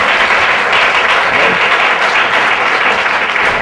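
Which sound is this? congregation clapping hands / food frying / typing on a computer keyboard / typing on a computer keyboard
congregation clapping hands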